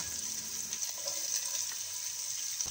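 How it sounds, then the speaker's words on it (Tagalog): Chopped onion and garlic sautéing in hot oil in a pan, a steady soft sizzle and crackle close by with no talking over it. "Maggisa na tayo ng sibuyas, bawang"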